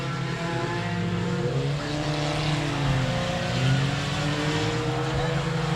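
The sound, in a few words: 4-cylinder race cars racing at 67 Speedway of Texarkana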